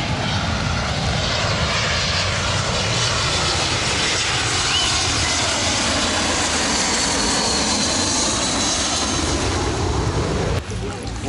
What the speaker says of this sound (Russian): Встречаем самолет на Чаленге.